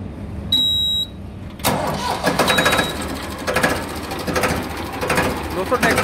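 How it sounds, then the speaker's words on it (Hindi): A 1995 Ford 3600 tractor cranks briefly, then its engine catches and runs with a rough, pulsing diesel clatter, close and fairly loud, with a voice heard over it. "दोस्तों ट्रैक्टर की आवाज सुनो आप, इतनी प्यारी आवाज है।"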